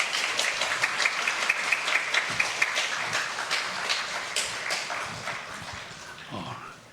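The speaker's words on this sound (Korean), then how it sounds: "총장님이 나오실 때 저희 박수로 크게 환영하도록 하겠습니다." Audience applause fills a Korean university chapel service, welcoming the university president to the stage at a semester worship gathering. The dense clapping is steady and fairly loud, then fades toward the end.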